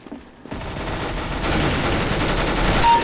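Gunfire in the video game CS:GO bursts in after a brief quiet start, a loud dense stream of rapid shots that keeps going to the end.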